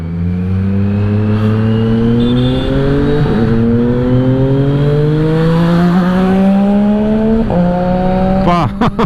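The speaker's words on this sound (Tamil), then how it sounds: "நம்ம ஷானோட வண்டி எக்ஸாஸ்ட் சவுண்டே வேற லெவலுங்க" A Kawasaki Z900 motorcycle's exhaust roars loudly and steadily as it accelerates, its pitch climbing through gears with shift breaks, close-up on a coastal road.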